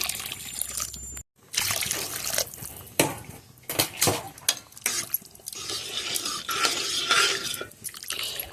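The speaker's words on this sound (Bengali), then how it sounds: "এবার পরিমাণ মতো জল দিয়ে দেব।" Water poured into a pot of fish head curry, a steady close splashing and trickling with stirring and clinks of the pot, briefly cut off near the start.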